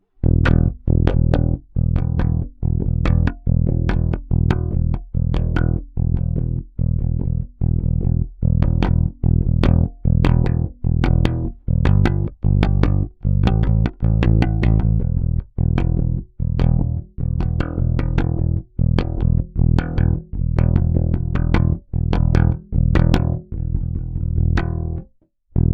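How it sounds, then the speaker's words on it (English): Bass guitar played through an overloaded preamp gives a gritty, distorted tone, with loud repeated plucked notes in a steady rhythm, close and dense for the whole passage until a brief stop near the end. "You can start to hear that distortion happen, and it sounds really cool."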